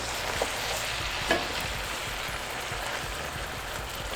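Bacon and cabbage frying in a pan, a continuous crackling sizzle with soft scraping stirs and a couple of light clinks, close and steady.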